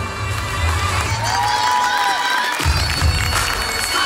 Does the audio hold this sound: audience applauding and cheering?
yes